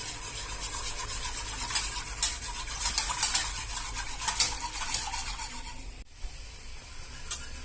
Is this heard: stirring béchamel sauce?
yes